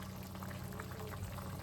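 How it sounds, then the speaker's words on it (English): Steady, faint bubbling of liquid boiling in a pot, a continuous soft gurgling and popping with no voices. "it has already come to a boil"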